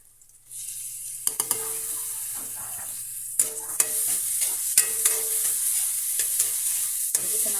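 Tomatoes and bitter melon sauté in a hot pan for ginisang ampalaya, a steady sizzle broken by repeated sharp clinks and scrapes of a utensil stirring against the pan.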